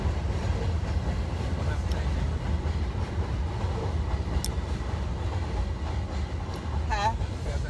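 A train in Houston rolls past with a steady low rumble and rattle, heard under chatter from people nearby.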